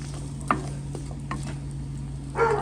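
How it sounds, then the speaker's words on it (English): Chopped onion stirred into melted butter in a pan for an asparagus pasta, with a few soft scraping strokes and a gentle sizzle that swells near the end. "I'm going to make sure that I mix it really well, cover it with the delicious butter"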